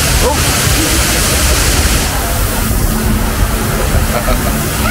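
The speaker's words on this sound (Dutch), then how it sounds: "wat een waterval" Rushing waterfall on an indoor water ride at Hellendoorn amusement park, a loud continuous roar of falling water with splashing, heard up close from the boat.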